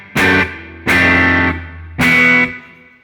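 A Squier J Mascis Jazzmaster electric guitar strikes three separate chords, played dry without reverb through an effects chain with some grit, each chord ringing briefly and cut short, close and loud.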